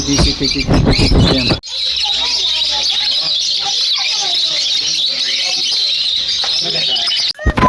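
Several kinds of birds chirp and sing together in a steady, dense chorus that sounds like a forest, with louder noise at the start and end.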